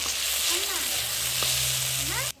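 Coriander leaves fry in a pan, producing a steady, close sizzling hiss with a few faint tonal background sounds, before cutting off abruptly at the end.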